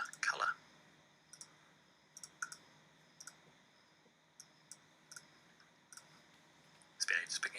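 Sharp, separate computer mouse clicks spaced about a second apart during a photo-editing color change, light and close, with a faint voice murmuring near the start and end.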